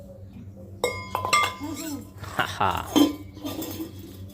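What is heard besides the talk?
child pulling and playing with metal utensils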